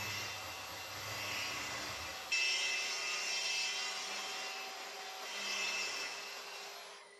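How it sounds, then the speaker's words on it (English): A power saw cuts wooden stiles for a stair gate. A loud, steady motor whine starts abruptly after a quiet start and holds to the end, swelling slightly in the middle. "Now we're going to cut the stiles, and they're going to be 4 inches."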